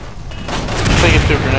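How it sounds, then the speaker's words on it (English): Grenade explosion in the video game Resident Evil 6, a brief loud booming blast that swells and lingers with rumble, heard close under a player's voice. "I think he threw a grenade again."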